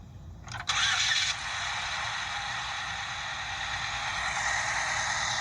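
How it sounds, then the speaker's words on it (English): A 2007 Saturn Ion car engine cranks and catches, then settles into a steady, even idle. "it sounds like an engine"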